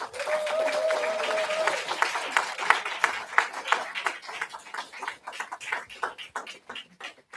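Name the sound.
applause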